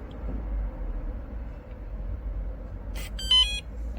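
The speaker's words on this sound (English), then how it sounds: "It will beep in a moment." A WELOCK ToucA51 smart fingerprint/keypad door lock sounds a short burst of electronic beeps as it locks, clear and close over a low steady room hum, with no one talking.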